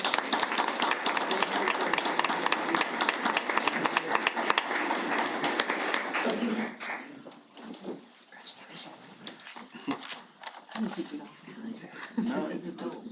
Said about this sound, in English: All right, one more round of applause, please